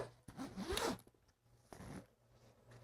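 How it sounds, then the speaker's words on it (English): A zipper on a K&F Concept camera backpack is drawn open in two quick, close zipping strokes, with quiet pauses between them. "unzipping it,"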